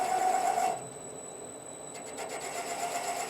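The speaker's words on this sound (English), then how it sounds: "I'm using a D-Way 1/8 inch beading tool" D-Way 1/8 inch beading tool cutting a series of grooves into a spinning 7 mm pen blank on a lathe, a rough scraping rub that is loud at first, then lighter and steady.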